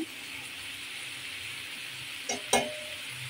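Shrimp frying with chili and turmeric powder, sizzling steadily in hot oil throughout, with a couple of brief stirring clinks near the end and no talking.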